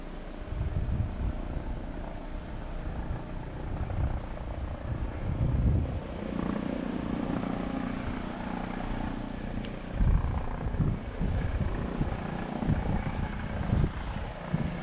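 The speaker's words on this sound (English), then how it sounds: "I would guess that that helicopter's probably following the tornado path." Helicopter flying over a storm-damaged area where a tornado knocked down trees, a steady low rotor drone with wind noise, fairly loud and continuous throughout without speech.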